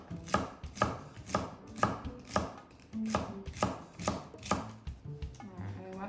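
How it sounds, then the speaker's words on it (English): A knife thinly slicing celery for a crunchy coleslaw, about a dozen crisp, evenly paced chops on a board, close and clear with no voices. "And you want to try and thinly slice the celery."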